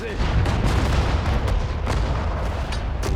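Katyusha rocket artillery firing in the World War II strategy game Sudden Strike 4, a dense, continuous rumble of launches and booms with repeated sharp bursts, loud and close throughout.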